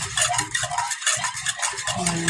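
A spoon scrapes and swirls through a homemade ice cream mixture in a pot, in a close, steady rhythm of repeated strokes with a brief pause midway.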